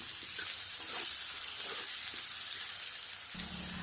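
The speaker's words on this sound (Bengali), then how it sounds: "লবণ আর হলুদ দিয়ে আলুগুলোকে একটু লাল লাল করে ভাজা করে নেব।" Potatoes seasoned with salt and turmeric fry in oil in a kadai, crackling in a continuous, close sizzle with light stirring noises and no talking.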